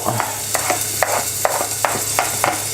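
Chopped onion fries in a pan under a soft steady sizzle, broken by regular scraping stirs of a spoon about every half second, close and clear with no talking.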